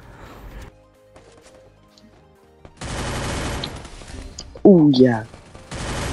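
Gunfire in the Free Fire video game crackles in bursts, first sparse scattered shots, then a dense loud volley of rapid fire with a bright tonal in-game effect, while someone talks excitedly in Vietnamese over it.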